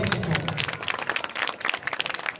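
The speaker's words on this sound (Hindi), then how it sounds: "जोरदार तालियों से हौसला अफजाई करें।" An audience at a dance program in Baikunthpur bursts into applause, dense rapid clapping from many hands that stays strong throughout, with a hint of voices underneath.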